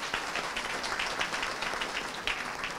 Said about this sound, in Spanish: les pido un aplauso para cada uno de ustedes